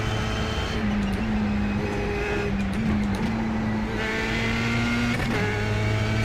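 Formula 3 race cars lap Imola in iRacing, a constant close engine roar with rising and falling pitch as gears shift, and other cars droning in a tight pack nearby.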